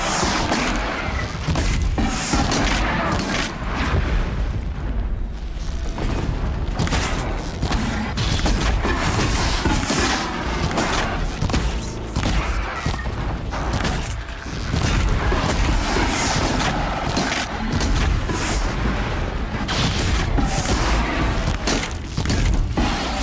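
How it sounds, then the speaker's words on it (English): Booming explosions rumble continuously in the game Horizon Zero Dawn, heavy low thuds and crackling blasts layered densely over one another without any voices. "Explosions in the distance."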